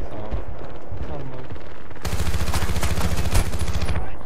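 Gunfire in the video game Battlefield: Bad Company 2 on the Port Valdez map: after quieter game noise, a loud rapid burst of automatic fire rattles for about two seconds.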